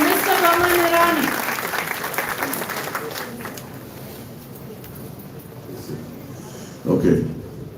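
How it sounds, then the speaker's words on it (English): A college confluence crowd breaks into applause for a guest, the clapping strongest at first and fading into lighter scattered claps, with a brief swell near the end and some voices in the room. "So let's have a round of applause for Mr. Boman Irani."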